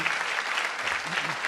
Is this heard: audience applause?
yes